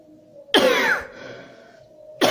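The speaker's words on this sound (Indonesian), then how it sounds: "Kemudian batuk." Two harsh, throaty coughs, close and loud, separated by a short pause with a faint hum underneath.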